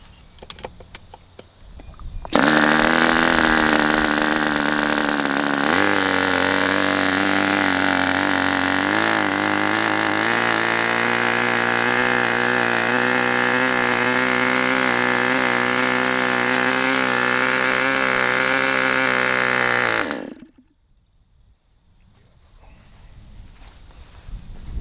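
A Raduga 10RU model engine on its first break-in run catches after a brief crank, then screams loudly and steadily at high revs for over fifteen seconds, pitch shifting slightly, before stopping abruptly into quiet with faint handling noise.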